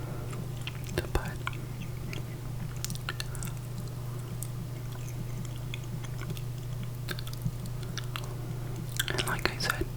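Close, soft whispering mixed with moist gum chewing and small clicks, set against a steady low hum, while jerkbait fishing lures are being clear coated.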